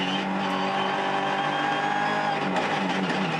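British touring cars brake hard into the complex during a race, engines whining and downshifting at a distance, with a short tyre screech near the end and no commentary over them.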